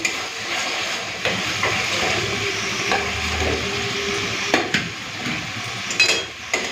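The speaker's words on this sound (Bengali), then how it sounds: "আলুটা দিয়ে দিয়েছি এরপরে আমি কিছুক্ষণ এখানে কষে নিই" Fried potatoes hiss in a spice masala in an oily pan, a steady close steamy sizzle with sharp clacks and scrapes of a utensil stirring against the pot, growing busier near the end; no voices.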